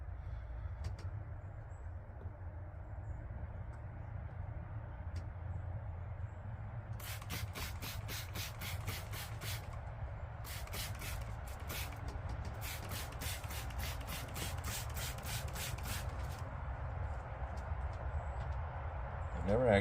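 Fingers rub scale insects off the branches of a pineapple guava bonsai in quick bursts of soft scratchy rasping, repeated in several runs over a low steady background hum.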